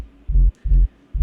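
Riddim/tearout synth sub bass thickened with a stock Kick Tight plugin, landing as three deep, fat, sustained low pulses in an even rhythm, loud and alone.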